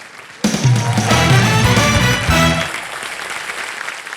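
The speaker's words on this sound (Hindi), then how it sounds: "जोरदार तालियां उनके लिए" A studio audience on a celebrity game show bursts into loud applause that holds for about two seconds, then fades to a low murmur.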